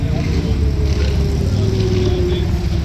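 A loud, steady engine rumble comes from a Dodge Challenger Scat Pack at a car meet, with a voice speaking over it throughout.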